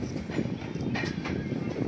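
Bhagyanagar Express pulling out of Peddapalli Junction, a steady low rumble of moving rail cars with faint wheel clatter, continuous and fairly close, no talk.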